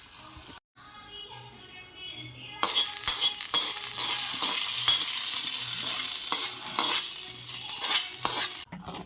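A tempering of onion, curry leaves and chilli crackles in hot oil for mango pulissery. It starts with a quiet pause, then bursts into a loud continuous sizzle with repeated spoon stirring against the pan.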